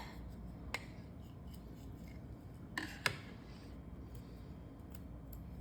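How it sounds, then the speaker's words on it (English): A knife slices open a pack of powder-free, food-safe gloves: a few quiet, sharp snips and scrapes stand out against a soft background hiss, with no talking. "let's go ahead and grab our knife, and we're just gonna cut these babies open"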